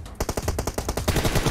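Rapid automatic gunfire in the mobile battle royale game PUBG Mobile, a loud burst of about ten closely spaced shots after a brief quiet start, with no talk over it.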